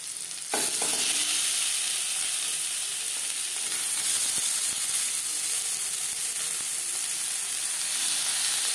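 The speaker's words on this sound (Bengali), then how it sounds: "মাছ ভাজবার জন্য প্যানে সামান্য পরিমাণে তেল আমি গরম করে নিয়েছি। এবার দিয়ে দেব লবণ হলুদ মেখে রাখা মাছ।" Rohu fish pieces rubbed with salt and turmeric drop into hot oil in a pan and set off a loud, steady sizzle that keeps crackling throughout, with no talking.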